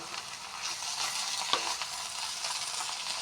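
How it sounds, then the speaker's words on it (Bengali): Fish and shrimp curry sizzles steadily in a pan as it is stirred, a continuous close frying hiss with a soft utensil scrape or two and no talking. "এখন একটু নেড়ে নিচ্ছি"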